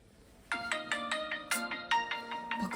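Mobile phone ringtone playing a bright, repeating electronic melody of quick plucked notes, steady and clear at moderate volume, with no talk over it.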